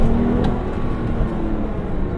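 A manual Porsche 911 accelerates hard on San Francisco streets, its engine a loud, steady low roar with road and tyre noise heard from inside the car, continuous throughout.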